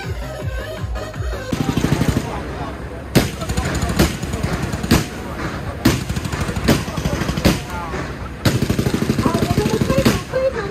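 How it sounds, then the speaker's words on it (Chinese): Fireworks exploding at a Taiwanese temple festival procession, a rapid crackling barrage of firecracker bursts in dense loud volleys with brief pauses, close and continuous throughout. "我们这次参观日呢是用烟火的方式来造型"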